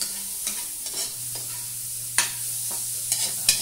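Onions sautéing in a pan for chicken curry make a soft, steady sizzle, with a few sharper clinks and scrapes as a utensil stirs them. There is no talking.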